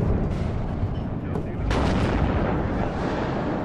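Artillery fire in the real-time strategy game WARNO during a 10v10 multiplayer battle on Danger Hills, heavy booming blasts layered into a dense, continuous rumble of distant explosions.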